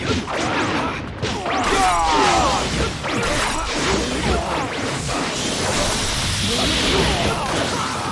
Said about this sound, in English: Fire style, fireball!